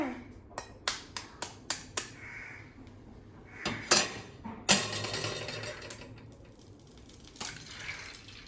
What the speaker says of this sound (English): First crack an egg into the pan.